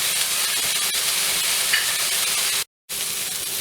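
Garlic sizzling as it hits a pot of cooking vegetables, a loud, steady, close frying hiss that cuts out briefly near the end and then resumes.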